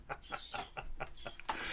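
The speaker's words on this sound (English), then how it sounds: "in the background, I'm sure you can hear my wife's two brand new birds, Sage and Willow." Two newly acquired pet birds chirp and cluck in short rapid bursts in the background, a fairly quiet, repeated pattern of calls under room noise.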